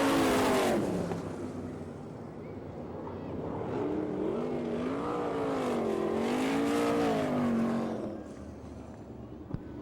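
A race car engine roars and revs on a dirt track at an All Star Circuit of Champions race in Florence, Kentucky, pitch rising and falling as it passes, loud and sustained before fading slightly toward the end.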